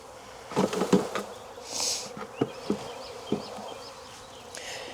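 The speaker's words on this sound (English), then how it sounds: "Still too many bees." Honey bees swarm and buzz around an opened hive while frames are shaken above the excluder at a Jacksonville, Florida apiary. A steady close buzz runs throughout, broken by several sharp knocks and thumps.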